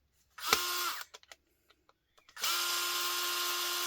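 A power driver drives screws into a microwave oven during disassembly, two bursts of high whirring, a short one and then a longer sustained one, separated by small clicks and handling knocks, close and loud.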